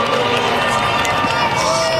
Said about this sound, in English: You can hear some booing there and see some students walking out.